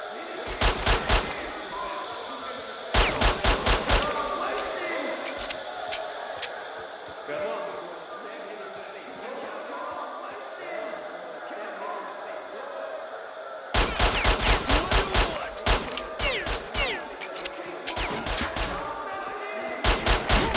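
Pistol fire in Stalker: Shadow of Chernobyl, sharp cracking shots in quick clusters at the start and again near the end, with a quieter stretch of game ambience between.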